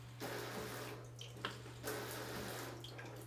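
Rear nozzle of a LUXE Bidet Neo 185 non-electric bidet toilet attachment spraying water, a close, steady hiss with brief surges, over a constant low electrical hum.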